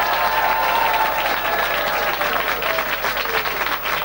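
A television studio audience at a Dutch dating show claps steadily and loudly, a dense wash of applause sustained throughout with no voices over it.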